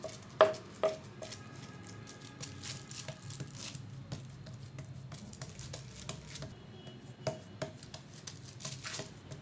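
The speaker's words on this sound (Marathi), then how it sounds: "आपण असं थापून घ्यायचे पाणी लावून थापून घ्यायचे" Corn flour thalipeeth dough being patted flat by wet hands makes soft, irregular slaps and taps, faint and close, in uneven bursts with a louder pat near the start.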